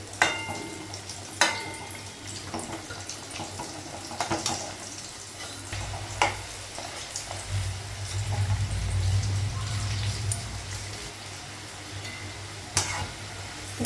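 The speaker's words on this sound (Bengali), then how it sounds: "একটু লাল করে ভাজছি পিঠাগুলো" Pitha cakes frying in oil in a wok, browning to a reddish color, make a continuous bubbling sizzle, with periodic clicks and scrapes of stirring and a louder surge of frying in the middle.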